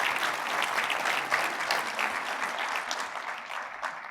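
A keynote audience at a Commerce Cloud conference breaks into a full round of applause. The clapping is dense and busy and eases off slightly toward the end, with no speech over it.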